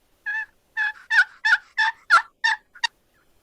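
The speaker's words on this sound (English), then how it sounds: "if you squeeze the side of your box call just a little bit, you'll rob some of the vibration and it won't call near as loud" Turkey box call played with the side squeezed to damp the vibration, giving a series of about eight short, clear yelps in steady rhythm, fairly close, alone with no talk.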